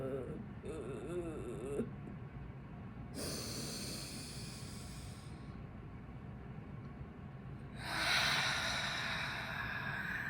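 Slow, focused breaths are drawn and let out through the nose and mouth, soft airy rushes in long bursts, with a fuller, louder exhale near the end.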